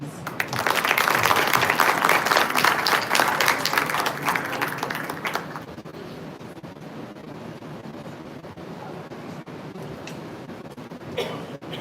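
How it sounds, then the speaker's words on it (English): Audience applause for a keynote speaker at an academic symposium, loud and dense clapping filling the room for about five seconds before fading into quieter room noise with scattered sounds. "Now, I invite Professor Dr. Linda Evans to the stage to deliver her keynote speech. A round of applause, please."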